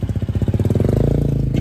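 A motorcycle engine idles and revs up close on Samal island, a loud, rapid chugging pulse that quickens and smooths into a steady throb.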